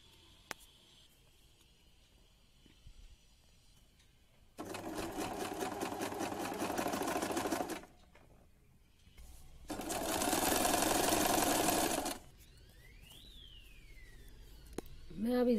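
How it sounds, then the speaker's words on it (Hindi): A sewing machine stitches woolen fabric for a girl's top, running in two separate fast whirring bursts of a few seconds each, with quiet pauses between them. "उसको इस तरीके से वी शेप में सिलाई करूँगी।"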